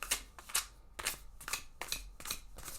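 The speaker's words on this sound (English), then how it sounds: "We're going to shuffle up." A large Blacklight Tarot deck being shuffled by hand, giving bursts of crisp card riffling and slapping about every half second, close and fairly loud with no voices.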